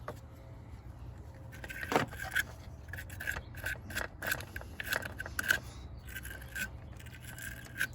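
A wire terminal brush scrapes and rasps inside corroded car battery terminal ends on a Pontiac Vibe, quiet repeated short scrubbing strokes close up.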